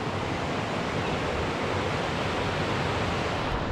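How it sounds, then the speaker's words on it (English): A river rushes in a steady, broadband wash of flowing water, loud and continuous, heard alone with no voices. "This is an amazing river."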